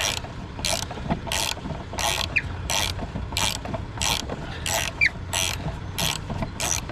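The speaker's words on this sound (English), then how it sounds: "if we push the vise down, we can get the wrench on the bolt, maybe. Wow, that's tight." A wrench works a stubborn bolt held in a vise, giving repeated ratchet-like clicks in a steady rhythm, about a dozen evenly spaced bursts at close range over low background rumble.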